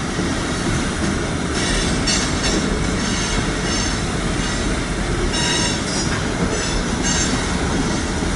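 A loaded BNSF coal drag freight train rumbles steadily past up close, with continuous wheel roar, rhythmic clatter and occasional faint squeals throughout.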